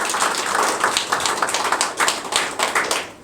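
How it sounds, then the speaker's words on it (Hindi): An audience at an open mic poetry event in Delhi claps for soldiers, a lively burst of clapping from a modest crowd that swells in uneven waves before tapering off at the end. "सबसे पहले उनके लिए ज़ोरदार तालियां।"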